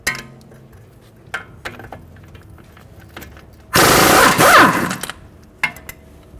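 Nut being removed from a bolt with a socket wrench while the bolt head is held, on a 2014-2019 Toyota Highlander front wheel bearing job: a loud burst of ratcheting metal clicks lasting about a second and a half, with scattered faint tool clinks around it.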